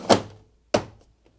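Two dull thunks about half a second apart, close by, as a Hoover tumble dryer's plastic water container is pushed firmly back into place.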